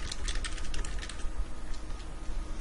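Quick typing on a computer keyboard, a close run of light key clicks that thins out toward the end.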